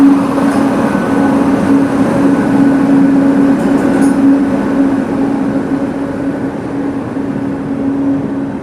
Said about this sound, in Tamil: நம்ம ராமேஸ்வரம் பன்னாரஸ் வண்டி வந்திருக்கு.